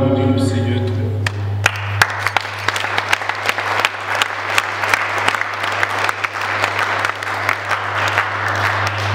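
A church congregation bursts into loud, sustained applause after a brief sung line, many hands clapping densely over a steady low hum, with a voice over the clapping.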